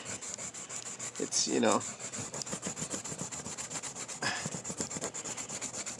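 A fingernail rubbing and burnishing tape onto the surface of an E-Flite Carbon Z Cessna 150 RC plane, making a close, soft, repetitive scratchy rubbing in quick strokes, with a brief spoken remark over it.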